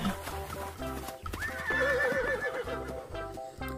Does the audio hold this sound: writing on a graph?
no